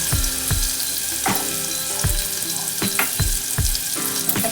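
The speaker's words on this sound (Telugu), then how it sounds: "ఇప్పుడు ఉల్లిపాయలు, పచ్చిమిర్చి వేసేసుకోవాలి." Onions and green chilies frying in a pan for a homemade okra and egg curry, a steady loud sizzle with periodic clinks of a utensil stirring against the pan.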